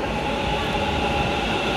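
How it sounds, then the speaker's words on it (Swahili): A metro train on the Kanakapura line in India runs steadily, a continuous loud rumble and hum of wheels and motors with no pauses, heard from on board or close beside the track. "Tunachukua metro hapa, treni ya mwendo kasi mjini hapa."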